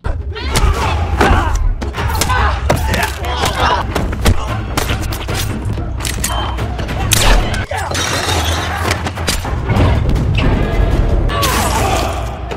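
A chaotic brawl with Yakuza members erupts in an assassin action film after a pistol jams. Heavy thuds, smashes and crashes come in quick succession, loud and continuous throughout.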